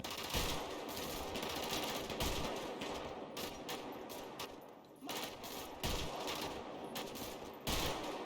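Rapid bursts of automatic gunfire aimed at zombies in a GTA V zombie mod rattle on and off, close and loud, with short pauses between volleys.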